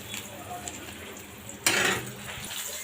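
Eggplant and shrimp sizzle in a frying pan, a steady low crackle of oil that jumps into a louder burst of sizzling as food is moved or stirred partway through.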